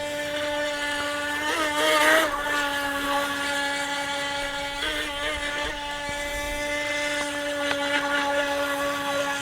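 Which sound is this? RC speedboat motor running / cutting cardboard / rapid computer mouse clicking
RC speedboat motor running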